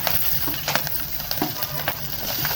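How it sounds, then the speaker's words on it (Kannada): Mustard seeds, cumin and green chillies frying in hot ghee in a pan, with a steady sizzling hiss and scattered crackles and pops as the seeds spit, plus occasional stirring scrapes, close and continuous. "ಇದನ್ನ ನೀಟಾಗಿ ಸ್ವಲ್ಪ ಫ್ರೈ ಮಾಡ್ಕೊಳ್ಳೋಣ"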